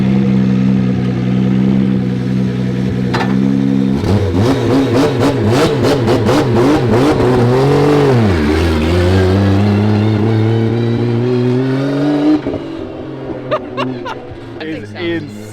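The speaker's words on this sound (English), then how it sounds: "anytime an engine can rev that freely, that spicy, I just get giddy" A 1000HP JZ-engined pro car's engine revs freely in sharp, rising and falling sweeps after a steady drone, loud and close, with people talking and chuckling over it.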